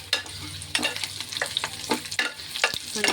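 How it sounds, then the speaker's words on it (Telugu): Tempering spices frying in hot oil in a pan, crackling and popping in quick irregular bursts over a low sizzle, with occasional stirring scrapes and no voices. "మనకి పోపు అయితే రెడీ అయిపోతుంది కదా"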